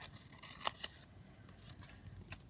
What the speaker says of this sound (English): So I'm just going to cut this down here. In fact, I'll just cut along there.